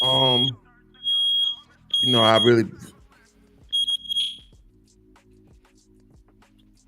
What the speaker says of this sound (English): Nah, that's a fire alarm.